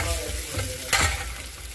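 Green chillies sautéing in a pan give off a steady close sizzle, with one sharp scrape of a spatula partway through.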